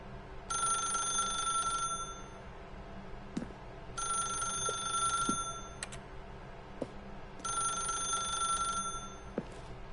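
A telephone rings in The Stanley Parable in three loud, evenly spaced bursts of bright bell-like trilling, each lasting about a second and a half, with quiet gaps between.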